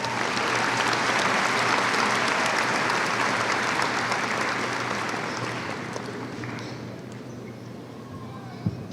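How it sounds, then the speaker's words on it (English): At a 2016 high school graduation ceremony a large audience applauds, a thick sustained wash of clapping that gradually thins and fades toward the end, leaving a few scattered claps and faint room noise. "A round of applause."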